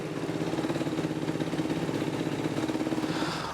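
A Yamaha YFZ450R quad engine idles on its first heat cycle after a top-end rebuild, with a steady, even, close-up thrumming pulse and no change in pace.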